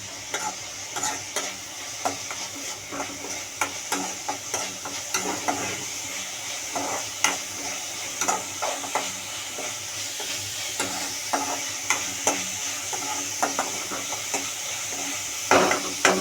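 Onions sizzle steadily in a hot pan over high heat while a utensil stirs and scrapes against it in irregular taps, close and continuous.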